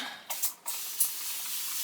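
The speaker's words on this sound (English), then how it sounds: "I bought this thinking it was a continuous sprayer." A handheld hair spray bottle gives a few short, uneven bursts of hissing mist, two quick puffs and then a longer spray that fades into a steady, soft hiss close by.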